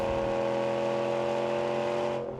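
A 2026 Ram 1500 pickup with a Hemi V8, floored from a 40 mph cruise, gives a loud, steady engine drone that holds strong and then eases off at the very end.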